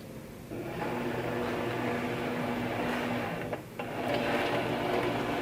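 A Cricut cutting machine scans and measures the mat before print-then-cut on white sticker paper, giving a steady mechanical whir and hum with a brief dip partway through, then resuming slightly louder, close by, with no talking.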